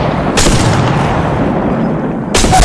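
Gunshots in Apex Legends Mobile: two sharp, loud cracks spaced about two seconds apart, with a rumbling boom-laden background between them.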